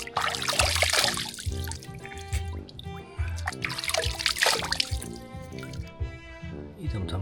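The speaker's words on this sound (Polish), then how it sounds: "Stąd płynie woda." Spring water flowing and dripping near a pump at the source in Paradise Valley, Agadir, Morocco, a steady close trickle with layered tonal drips and splashes throughout.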